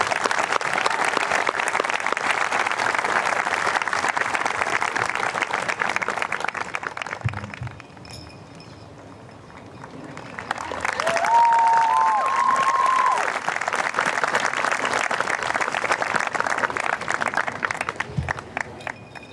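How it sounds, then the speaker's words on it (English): A graduation ceremony audience applauds in a loud, sustained wash of clapping that dips into a quieter lull partway through, then swells back up with scattered cheers and whistles. "How about one more round of applause for Natalie, Jenna, and Audrey?"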